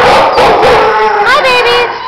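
Two small Catahoula puppies in a shelter kennel let out a brief, high yipping howl that rises and wavers, loud and close, with a voice murmuring faintly underneath.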